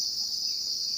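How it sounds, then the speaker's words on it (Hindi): Crickets in the trees at a quiet school ground, giving a steady, unbroken high-pitched trill that sounds continuous and fairly close, with nothing else standing out. "यहाँ पे जो आवाज़ आ रही है वो झींगुर की आवाज़ है।"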